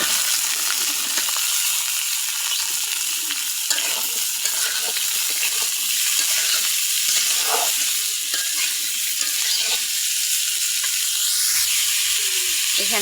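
Chopped vegetables stir-fry in a pan with lightly fried onion and chili for fried rice, a constant sizzle broken by scraping, clinking stirring strokes close up.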